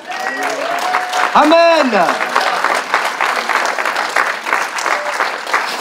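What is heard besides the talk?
church congregation applause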